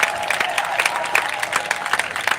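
A crowd at a Juneteenth reparations rally claps energetically, a dense field of rapid hand claps with scattered louder peaks and a little cheering mixed in, fairly close.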